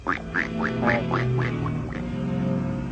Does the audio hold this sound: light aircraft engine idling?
no